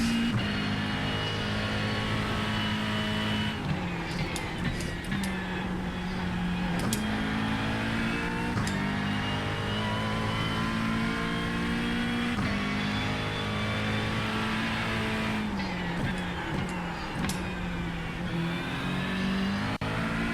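A race car's engine drones and revs continuously in a sim racing game at the Qatar circuit, rising and falling through gear changes with loud, unbroken tone and brief dips under braking.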